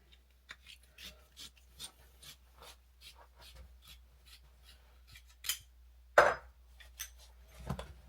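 A plumber saws through a length of copper pipe for a shower repair, giving a series of short, rhythmic rasping strokes close by, with a sharp clink near the end.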